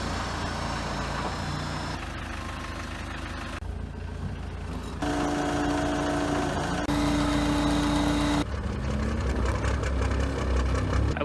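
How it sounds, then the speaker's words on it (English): A truck engine idles and runs steadily at close range, a low mid-pitched rumble that shifts in tone across several segments, with no talking over it. "I love how that truck sounds."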